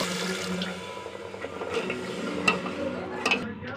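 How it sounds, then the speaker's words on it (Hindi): Water is poured into frying chhole masala in a pan, giving a close splashing, sizzling rush that lasts several seconds with a few sharper clinks and stirring sounds. "अब इसमें हम डाल देंगे पानी।"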